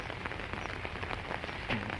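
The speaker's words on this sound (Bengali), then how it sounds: "আর এরকম 2-3 দিন ধরে বৃষ্টি পড়ছে আমাদের দিকে।" Steady rain after days of downpour patters on surfaces near a flooded pond, a dense, even hiss of drops with no voices.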